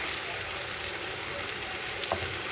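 Tomatoes and eggplant frying together in a pan give a steady, close sizzle with faint stirring scrapes and a small clink near the end.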